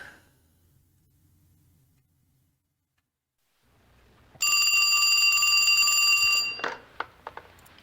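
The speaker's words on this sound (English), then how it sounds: "And the phone rings as soon as he sits down." A bell-type telephone rings once in a bright, sustained electric trill lasting about two seconds after near silence, then fades, followed by a few small clicks, with no talk.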